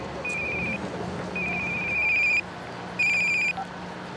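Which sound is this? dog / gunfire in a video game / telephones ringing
telephones ringing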